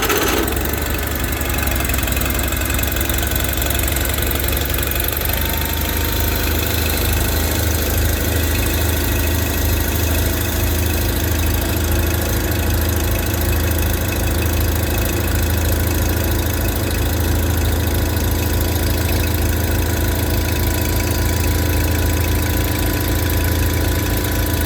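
A Case 1540 diesel tractor engine, cold-started after a 10-degree night, idles loudly and steadily with a rough, knocking low rumble that continues throughout, no voices.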